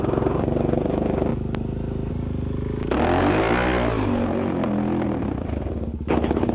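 Dual sport motorcycle revving hard through a wheelie attempt, engine note climbing and sweeping up then falling back, loud and close with rattling mechanical clatter, a brief lull and a fresh throttle burst at the end.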